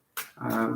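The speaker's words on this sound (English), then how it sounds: "If you hear that noise, that's my dog." A dog gives a short, close bark-like grunt, a brief sharp sound followed by a rougher huff.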